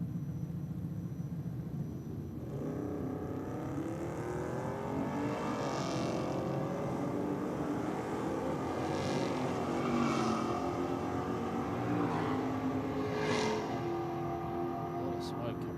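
A Ford Fairlane drag racing on a no-prep strip in Australia, its engine roaring loud and continuous as it makes a smoky pass, with crowd and announcer voices mixed in underneath.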